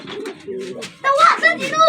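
Pigeons coo nearby in soft, throaty, repeated calls, the cooing getting louder partway through, in sunlight.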